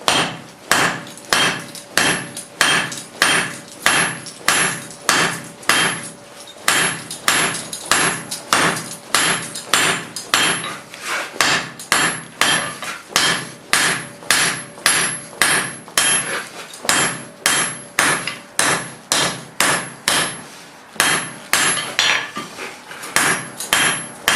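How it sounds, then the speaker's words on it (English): A hammer forges a hot steel bar into bolt jaw tongs, striking over and over with sharp ringing blows on the anvil in a fast, steady rhythm, loud and close, with brief pauses between runs. "I'm using the edge of my hammer here to work"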